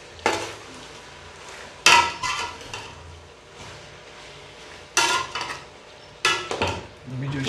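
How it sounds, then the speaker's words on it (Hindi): Metal spoon scraping and clanking against a cooking pot while tomatoes and green chilies are mixed, coming in several loud bursts of stirring separated by quieter pauses. "ये सब इसके अंदर डाल दिए और अभी जो है इसको मिक्स करता हूँ"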